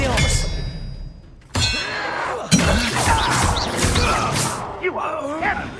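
Spells clash in a Hogwarts Legacy duel, an Expelliarmus cast among sharp clangs, dings and crashing impacts, loud and close, with voices speaking over the fight.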